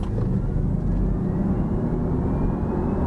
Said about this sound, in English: It's quite like a sort of fake sound on it. Yeah, so it still sounds kind of jet-like.